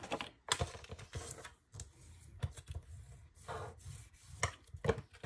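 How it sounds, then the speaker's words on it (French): Paper being creased into small folds for a pop-up scrapbook album, giving a series of sharp, close taps and scrapes in an uneven rhythm with no talking. "Donc je marque mes petits plis."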